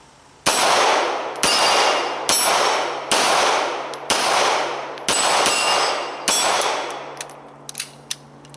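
A SIG P226 9mm pistol fires about eight loud, evenly spaced shots close up, each ringing out with a metallic clang, followed by a few lighter clicks and clatters as firing stops.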